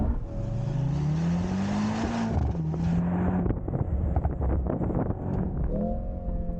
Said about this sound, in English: So you can play the exhaust quite a bit, especially with the gears.